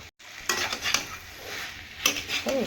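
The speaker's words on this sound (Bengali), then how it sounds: "লবণ দিয়ে বেশ নাড়াচাড়া করে অল্প সামান্য কালো জিরে দিয়েছি এই দিয়ে নাড়াচাড়া করে নামাবো" A spatula scrapes and knocks against a pan as potatoes fry with green chilli, salt and nigella seeds, bringing a few sharp metallic clinks and scrapes over a low sizzle, close and fairly loud, with no voices.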